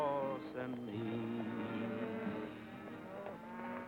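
Cattle moo in a low, drawn-out, wavering call, fairly faint and continuous over a few seconds with no other sounds.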